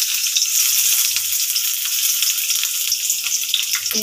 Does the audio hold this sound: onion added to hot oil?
yes